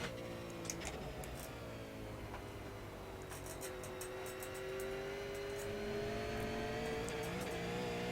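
A race car engine in a racing sim video game drones steadily and climbs gradually in pitch under the throttle, loud and continuous, with faint tire noise and clicks on top.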